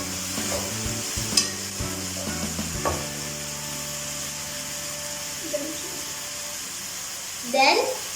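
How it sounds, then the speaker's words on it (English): Egg noodle vegetables with capsicum and soya sauce sizzle in a pan while a spatula stirs them, steady frying hiss with a few clattering scrapes and knocks early on, close by. "Now we are adding the soya sauce and mix it well."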